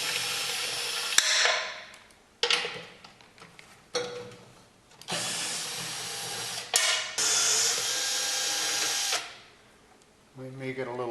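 Bursts of a power drill or impact driver loosening bolts on a John Deere X729 yard tractor's snow blower, several short whirring runs separated by pauses, up close and loud.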